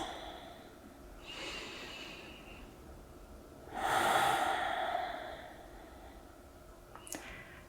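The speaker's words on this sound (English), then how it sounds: "and take a couple of breaths." A person takes slow, deep breaths, a long inhale followed by a fuller airy exhale, close and soft, with a small click near the end.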